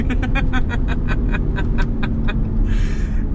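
RAM 1500 Laramie Night Edition pickup with a 3.0 twin-turbo inline-six petrol engine accelerating hard, a loud continuous engine drone with rapid rhythmic pulses above it, heard from inside the cabin.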